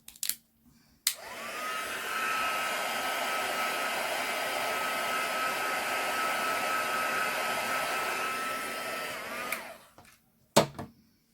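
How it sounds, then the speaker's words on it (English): A heat tool blows hot air over a stamped craft background, switching on with a steady, loud whooshing whir that runs for about eight seconds before cutting off, with a few faint handling clicks around it and nobody speaking. "So I'm just going to have a quick waft with my heat tool."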